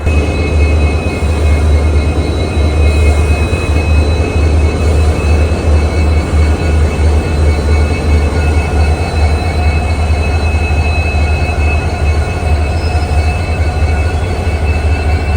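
A loud, steady rumble of a train hauled by a blue Indian diesel locomotive, with a deep engine drone and a persistent high whine, running continuously without pause.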